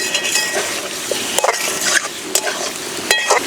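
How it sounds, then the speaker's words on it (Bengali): Vegetable stalks sautéing in a hot pan, a steady close sizzle broken by several sharp scraping stirs and light clinks of a utensil, no voices. "ডাঁটা দিয়ে ওই 4 মিনিট মতো কষিয়ে নিলাম"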